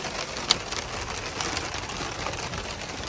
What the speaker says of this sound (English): Did you bring all this rain in here this morning